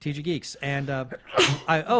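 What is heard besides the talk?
sneeze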